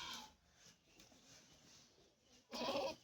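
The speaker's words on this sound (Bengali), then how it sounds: "আলহামদুলিল্লাহ অবশেষে ছাগল একটা কিনেছি ইনশাল্লাহ" A goat at a large livestock market in Meherpur district gives a brief bleat, then after a quiet stretch a louder, nearer bleat near the end.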